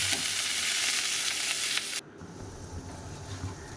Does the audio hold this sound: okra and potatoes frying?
yes